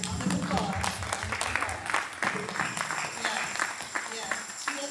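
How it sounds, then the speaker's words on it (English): An audience at a Kwanza community gathering applauds, a lively stretch of many clapping hands mixed with cheers and people talking at the same time. "round of applause"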